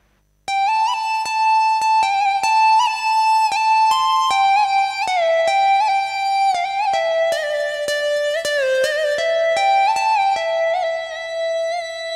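A SX600 electronic organ keyboard plays a solo melody in a Vietnamese lead-guitar voice, with sustained notes, sliding bends and vibrato, and no talking.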